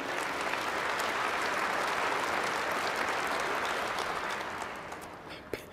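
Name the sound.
applause in an audience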